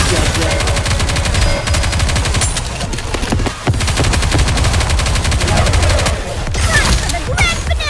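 Continuous rapid gunfire from Goddess of Victory: Nikke, dense automatic bursts layered with shots throughout, loud and close with game voice lines chiming in over the barrage.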